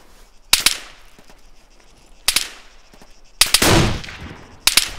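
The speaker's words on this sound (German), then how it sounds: "MK-16 schießt wieder." MK-16 rifle firing in the video game Arma 3, four sharp loud cracks spaced a second or two apart, one followed by a longer rushing echo, with little else around them.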